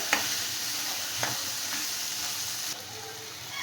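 Masala frying on a low flame for a green gram gravy, a steady close sizzle with a few sharp stirring scrapes and a brief drop in intensity near the end, no voices.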